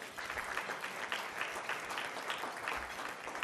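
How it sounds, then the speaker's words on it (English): An audience at an awards ceremony in Washington applauds for Cuba, a full, even patter of many hands clapping at a steady level throughout, somewhat distant and fairly soft. "A round of applause for Cuba, even here in Washington."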